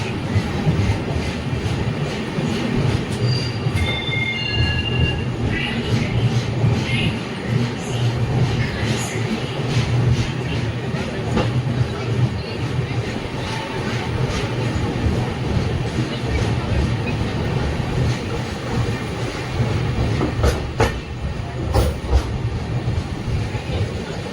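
The Rani Chennamma Express halts at Yesvantpur Junction, filling the space with a loud, continuous rumble and rattle, while faint voices come and go beneath it.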